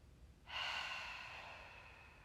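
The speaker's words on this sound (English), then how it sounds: "Last big breath." A single deep exhaled breath during yoga relaxation, a close, soft, breathy whoosh that starts suddenly and slowly fades, with no voices.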